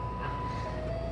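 An ice cream truck sits close by with a steady engine idle and a sustained tonal chime line, brief and fairly quiet.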